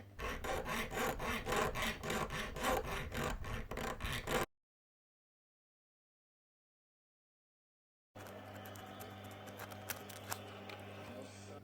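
A hand file cuts a ratchet clearance bevel on the hand of a Colt Single Action Army revolver in quick, even rasping strokes, close and quiet, then stops briefly before a softer stretch of scraping and handling resumes.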